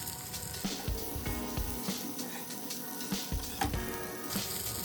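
Surmai king fish frying in a pan, a steady bright sizzle with occasional louder crackles and pops as the pieces are turned upright to crisp their sides, close and continuous with no talk.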